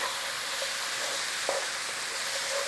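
Garlic fries in a pan, a dense, even hiss of sizzling oil close by, with a faint knock or two of a spoon stirring through it.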